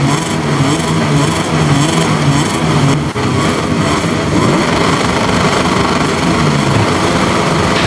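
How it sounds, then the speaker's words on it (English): MotoGP race motorcycles roar away together at the start of a race at Silverstone, a loud, continuous full-throttle engine blare with revving layered engines holding steady for the whole stretch. "It's full throttle, it's lights out, and we are racing here in Silverstone"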